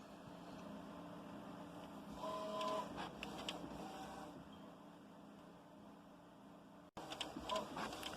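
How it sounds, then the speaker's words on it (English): A large format printer prints back and forth, its carriage making a steady mechanical whir with faint tonal motor whines and a few clicks, running continuously up close before a brief cut and a resumed pass. "It's just printing back and forth."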